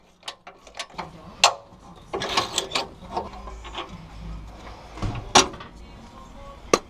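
Tight bolts being undone on a Land Rover Defender chassis during a bush replacement, heard as close ratcheting clicks and metallic knocks in short irregular bursts.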